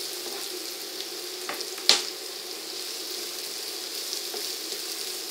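Onions and small pieces of garlic frying in a pan for a Breton-style white bean dish, a soft steady sizzle with one sharp clink of a utensil partway through, no talk.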